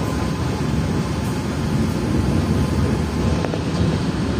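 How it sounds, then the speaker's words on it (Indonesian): The KA Argo Dwipangga executive train arriving at Tugu Yogyakarta station: a loud, steady low rumble of rolling wheels and engine drone, continuous and close, with no talk. "KA9 Argo Dwi Pangga tiba di stasiun Tugu Yogyakarta"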